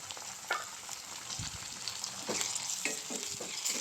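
Onion and tomato frying in a pan with ginger-garlic paste and green chilli, a steady close sizzle with occasional stirring scrapes, no talk.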